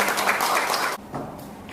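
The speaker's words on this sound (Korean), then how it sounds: "박수로 맞이해주시기 바랍니다" Audience applause at a Daejeon tax accountants' academic conference, a dense even wash of clapping that drops off suddenly, leaving a thinner patter of a few remaining claps.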